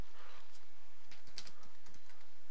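Rapid clicking of keys on a computer keyboard, close and fairly loud, with uneven bursts of keystrokes and short pauses, no voice.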